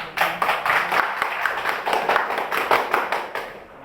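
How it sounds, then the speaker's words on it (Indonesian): A classroom group claps together in a quick, steady rhythm of many hands, close and fairly loud, for a few seconds with no talking. "Oke, tepuk tangan."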